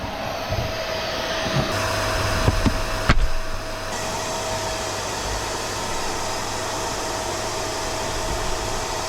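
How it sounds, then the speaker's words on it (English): A vacuum sucking bees out of a pillar drones steadily with a constant whooshing hum, close by, with a couple of brief knocks early on. "We'll quickly vacuum them all out."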